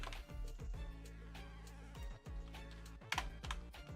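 Keys clatter on a computer keyboard in quick, uneven bursts of clicks. The typing is close but quiet and continuous, with short pauses.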